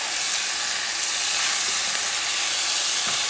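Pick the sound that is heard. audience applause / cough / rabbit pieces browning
rabbit pieces browning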